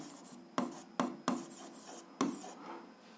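Pen scratching on paper in short, crisp strokes, four distinct taps and scrapes spaced irregularly over a quiet background, close and moderately loud.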